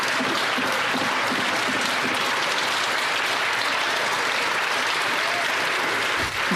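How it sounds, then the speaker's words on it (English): Members of Canada's House of Commons clap during Question Period, a dense and sustained round of applause that fills the chamber steadily from start to finish with no pause. "Look at all the seals clapping."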